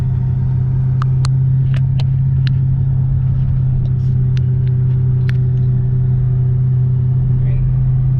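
A 2006 Saleen Extreme with a six-speed manual and 4.10 gears on a test drive, its engine a steady, loud cabin drone with road rumble while someone talks over it.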